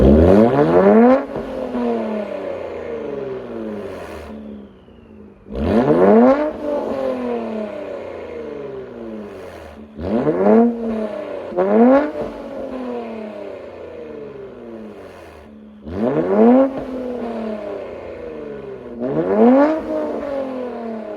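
A Infiniti Q60 with a Borla catback true dual exhaust (2.5-inch piping, 4.5-inch tips, rear muffler only) is revved repeatedly: five sharp throttle blips, each rising to a loud roar and then falling away with a raspy burble, spaced a few seconds apart.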